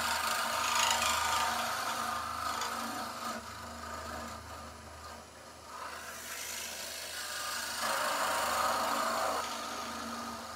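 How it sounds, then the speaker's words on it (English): A scraper cuts wood on a lathe while a bird box is being turned, giving a steady rasping scrape that swells and fades over several passes. No one speaks. "I'm just going to round the bottom over and then get the scrapers flowing."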